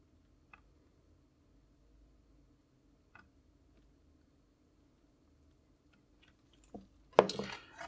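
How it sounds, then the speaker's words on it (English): Plastic LED connector being pushed onto an Amiga A600 computer board, a sharp cluster of clicks and scraping near the end after soft faint ticks, close and alone. "all we need to do now is plug in this connector for the LEDs"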